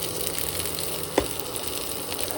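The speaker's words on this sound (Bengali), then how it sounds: "তেলের উপরে ছেড়ে দেবো ডিমার আলুটাও দিয়ে দেবো দিয়ে এটাকে ভালো করে কষাতে হবে" Egg and potato frying in hot oil with bay leaf and cumin for an egg curry, giving a steady low sizzle throughout with one brief utensil clink midway; no voices.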